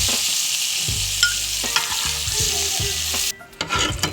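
Chillies fry in hot oil for a tomato chutney, a steady loud sizzle broken by the scrape and clink of stirring, growing busier near the end.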